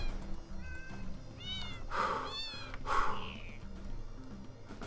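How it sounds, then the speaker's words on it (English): Cats meow in the space video game Fowl Space, several short rising cries and two louder, longer yowls over a low, busy game background. "Get the cats in there!"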